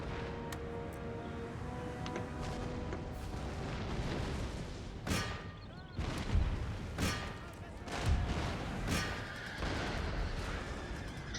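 Artillery cannon fire booms in Empire: Total War, several heavy shots landing a second or two apart over a dense battlefield din while a voice talks over it.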